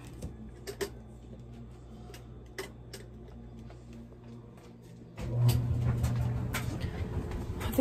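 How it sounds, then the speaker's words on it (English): A clothes dryer starts up partway through, its low steady rumble and tumbling rising above quiet ticking and clicks, nearby and moderately loud. "start up this dryer here"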